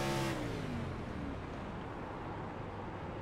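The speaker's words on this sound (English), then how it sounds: "That is him clutching that car in." A car engine in a racing video game at Kentucky Speedway hums steadily as the driver clutches in, with a falling pitch sweep at first, then a fairly quiet, even drone with road noise.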